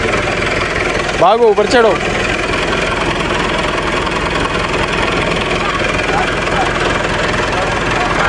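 A tractor engine idles steadily on a farm in the Cholistan area of Bahawalpur, a continuous low rumble running throughout while people shout and talk over it.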